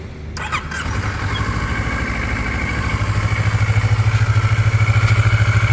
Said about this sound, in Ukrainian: Ну, робота двигуна ідеальна.